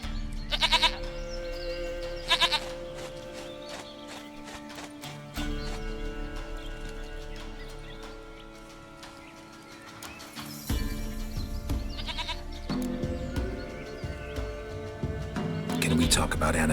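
Goats in The Witcher 3 bleat in short bursts over steady game music and ambience, followed later by louder environmental rumble.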